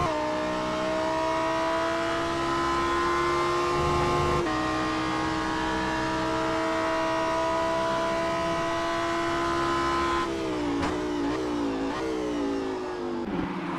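Race cars at speed on the Long Beach street circuit in a NARS Super Trofeo Cup race, engines droning loud and steady with pitch falling as cars pass, then a second engine rising and shifting near the end.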